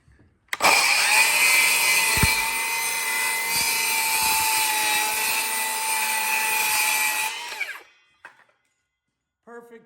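A right-hand cordless circular saw with its LED light on cuts through wood, spinning up sharply, then holding a loud, steady, close whine for about seven seconds before spinning down, followed by faint handling noises.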